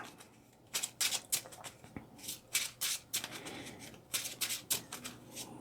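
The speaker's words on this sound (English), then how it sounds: "shuffle 1 Spider-Man card from your discard pile into your deck" Cards for the Marvel Champions card game being shuffled at close range, a run of quick riffling bursts with short pauses between them and no talking.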